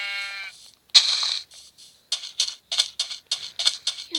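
Sheep bleat in a video game, one high nasal bleat followed after a pause by a quick run of short repeated bleats in a choppy rhythm, clear and fairly close.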